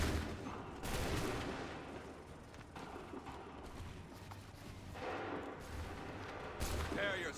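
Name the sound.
volley of gunfire from soldiers in Assassin's Creed III video game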